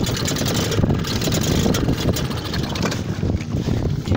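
A Seagull outboard motor runs on a dinghy in a harbour. Its steady, loud, close engine drone mixes with wind buffeting the microphone.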